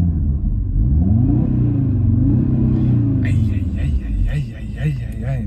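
Audi RS Q3 Sportback (2021) engine starting and rumbling with rising and falling revs, loud and close inside the car, while someone talks over it and later sharper mechanical clicks join in.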